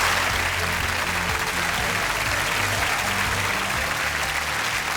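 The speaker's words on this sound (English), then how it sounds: "Please, ladies and gentlemen, give him an absolute massive round of applause." Studio audience at a television show applauds in a steady, dense roar of clapping, loud and continuous for the whole stretch with no pauses.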